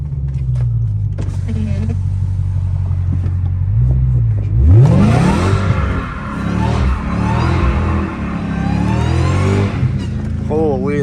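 A Dodge Challenger Hellcat Redeye's supercharged V8 revs hard while drifting a winding road in first gear, engine note climbing sharply and sustained, loud and close from inside the car, with tire noise and someone talking over it.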